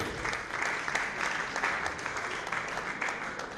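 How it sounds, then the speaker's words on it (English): Applause from a seated audience at a public relations gathering in Lagos, a dense, even patter of clapping throughout, moderately quiet and somewhat distant. "Can you please indulge me by giving them a round of applause?"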